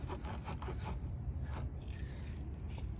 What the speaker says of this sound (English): It's knurled, so it's cutting as it goes. Ream that in and out a few times.